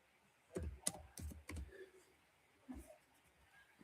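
Keyboard typing, a few scattered keystroke bursts and clicks in short clusters, fairly faint, with no talking over them.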